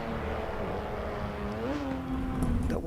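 Engine and exhaust note of a car in the Assetto Corsa EVO racing game: a steady, loud droning roar that climbs in pitch near the end as revs rise, with no talk over it.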